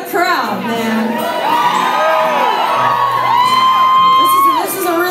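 A packed concert crowd at the Slowdown in Omaha cheers, with rising whoops and shouts over a steady wash of applause and crowd noise.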